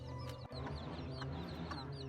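Many baby chicks in a pen peep and cheep in overlapping high chirps, a busy, continuous chorus heard close and fairly faint.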